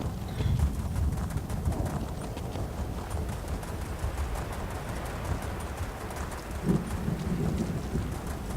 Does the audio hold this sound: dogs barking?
no